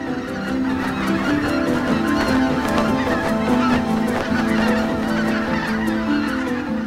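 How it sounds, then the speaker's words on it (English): A flock of greater white-fronted geese resting near power plant towers in Germany's industrial region, honking continuously in overlapping, chattering calls at moderate distance. "The towers of the power plant do not bother the resting greater white-fronted geese."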